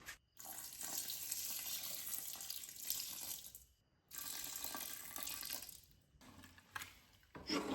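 Prepared yeast is poured into barrels for homemade wine fermentation: a steady stream of liquid splashing in several pours, separated by short pauses, close and moderately loud.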